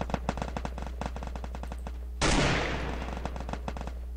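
Gunfire from a K98 rifle and other weapons in the Free Fire video game: a fast rattling string of sharp shots, then a loud blast that fades into a long decaying roar, all close and without talking.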